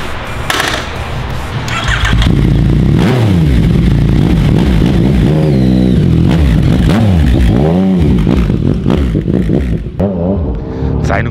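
A Yamaha MT-09 motorcycle pulls away and accelerates hard up through the gears, its loud engine rising and falling in pitch with each shift, close by and nearly alone apart from a brief voice.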